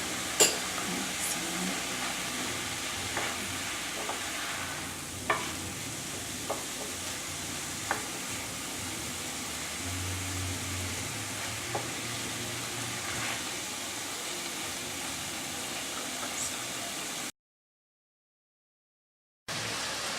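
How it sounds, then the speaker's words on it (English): Minced meat fries in a pan over lowered heat, producing a soft, continuous sizzle with occasional light clatters, fairly quiet throughout before a brief drop to silence near the end. "since we have our mince on the pan, we just lowered down the heat"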